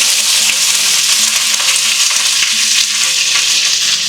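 Onion, mint and green chillies fry loudly in hot oil for chicken biryani, a dense, continuous sizzle close up with no pauses and no voices.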